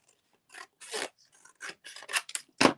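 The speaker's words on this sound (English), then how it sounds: "and I'm just going to hand cut this." Scissors snipping through paper by hand, a string of close, crisp rasping cuts in uneven rhythm, alone without talk.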